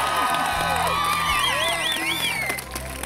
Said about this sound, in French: une bonne main d'applaudissements pour nos deux couples finalistes